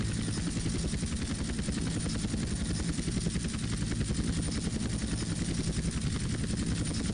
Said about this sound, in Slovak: tá helikoptéra ide rýchlosťou, ako keby každú chvíľu mal dojsť benzín